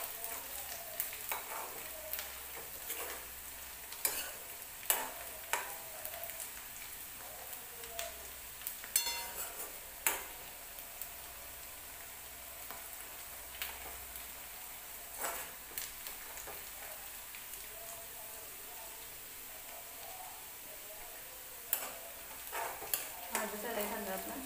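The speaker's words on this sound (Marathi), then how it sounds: "छान आपण भाजून घ्यायचंय कांदा आपल्याला।" Chopped onion sizzles steadily as it fries in a pan for a chicken dish, with scattered clinks and scrapes of a spoon stirring throughout, close and moderately loud.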